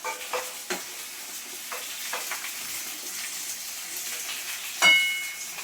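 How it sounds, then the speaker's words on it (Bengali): Fish deep-frying in hot oil give off a soft, continuous sizzle close by, broken by occasional sharper crackles and stirring clinks, with one louder pop near the end. "মাছগুলো আমি ছাকা তেলে ভাজছি।"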